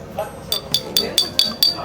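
A quick series of six light glass clinks in a steady rhythm as drinks are toasted at a meal, close by, with faint murmuring voices underneath.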